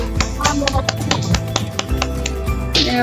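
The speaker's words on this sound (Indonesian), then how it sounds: "Tepuk tangan buat Saskia" A quick series of sharp claps rings out at a brisk, uneven pace over a low background hum, loud and close.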